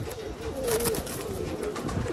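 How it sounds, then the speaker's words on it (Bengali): Caged pigeons at a house selling pairs of Lalduma, Kalduma and Kashmaduma birds, cooing in soft, steady, repeated low calls against light background rustle, close by and without talk. "পায়রা পুরোপুরি তোমাদের সামনে আছে, পুরো অ্যাক্টিভিটি সব কিছু তোমরা দেখতে পাচ্ছ"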